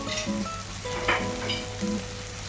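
Fennel powder fries in oil with chicken, a steady close sizzle with a few soft stirring scrapes and no talking.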